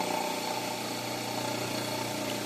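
Permanent magnet rotor motor with magnets slanted at 32 degrees, braking with one of its three phases shorted, giving a steady humming drone with a faint rhythmic pulsing.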